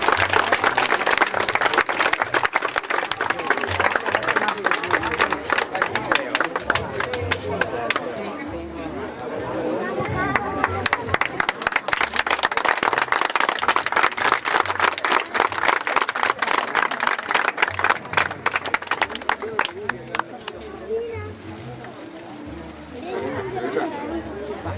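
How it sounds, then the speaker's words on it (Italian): Sustained applause from a crowd at a memorial event in Jesolo, steady clapping with chatter mixed in, dipping briefly near the end before picking up again. "gli proponiamo un altro grande applauso"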